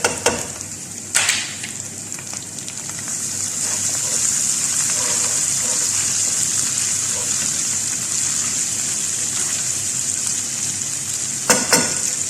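Onions and ginger frying in a pan, a steady close sizzle rising and holding under brief stirring scrapes, with occasional spoken words over it.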